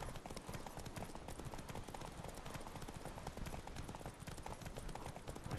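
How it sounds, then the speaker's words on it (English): Horses' hooves clip-clop steadily in The Witcher 3: Wild Hunt, a dense, continuous patter of hoofbeats that stays close and fairly loud throughout. "There's just random horses just wandering around?"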